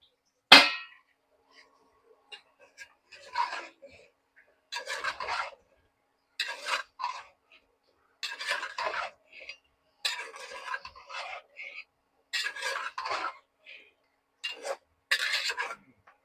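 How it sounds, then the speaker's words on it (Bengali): Cut papaya and potato pieces go into a pan of spiced prawns for a curry, making repeated short bursts of close rasping scrapes and clatter between quiet gaps. "আমি এখন কেটে ধুয়ে রাখা পেঁপেগুলো দিয়ে দিচ্ছি।"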